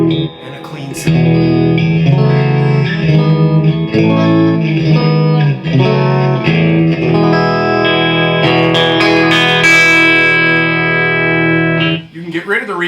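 An electric guitar, a '54 Strat, plays through a heavily distorted Bogner Cosma Shiva 84 amp drenched in reverb, strummed chords and ringing notes for about twelve seconds with long washy tails, loud and close, alone.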